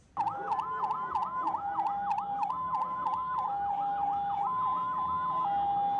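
An ambulance siren wails in a fast repeating rising-falling cycle, loud and steady for several seconds, with a few sharp clicks at the start.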